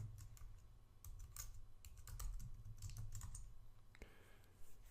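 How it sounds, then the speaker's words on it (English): Quick, uneven keystrokes clatter on a computer keyboard as a Linux terminal command is typed, close and fairly quiet with no talking. "Just type sudo add user L Skywalker"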